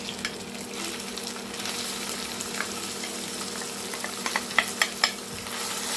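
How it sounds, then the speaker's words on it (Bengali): Grated coconut sizzles and fries in a pan with 800 g of mutton for a Kerala-style mutton curry, giving a steady close crackle with sharper pops near the end and no talking. "এটাকে আমি পুরো ব্রাউন কালার করে ফ্রাই করে নেব।"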